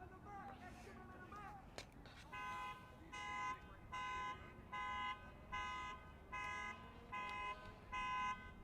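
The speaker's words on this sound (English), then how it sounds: "we've got a car alarm going off in the background" A car alarm near a soccer match pulses in a steady cycle of loud, regular honking bursts after a few opening chirps, heard over crowd ambience and commentary.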